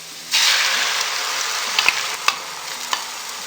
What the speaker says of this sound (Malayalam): പെട്ടെന്ന് തന്നെ നന്നായിട്ട് അങ്ങ് സ്ക്രാമ്പിൾ ചെയ്തെടുക്കാം